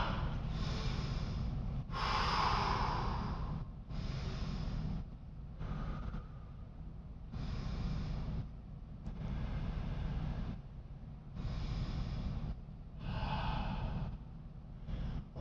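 Children in a junior martial arts class breathe together during an exercise, slow rhythmic in-and-out breaths and sighs, alternating inhales and exhales every second or two, faint and airy under a steady room hiss.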